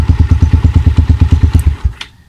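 Motorcycle engine idling in a loud, steady, rapid thumping rhythm close by, then abruptly cut by a wireless killswitch, sputtering to a stop after about two seconds with a faint click.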